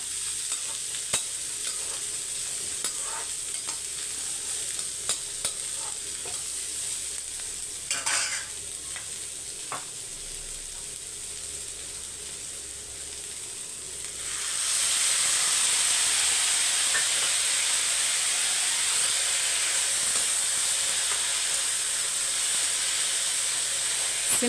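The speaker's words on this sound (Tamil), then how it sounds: "ஒரு கால் கிளாஸ் தண்ணி ஊற்றி காயை வந்து நல்லா வேக வச்சுக்கலாம்" Vegetables cook in a pan with a little water, giving a continuous sizzle and hiss that jumps noticeably louder and steamier midway, close up and with no voices.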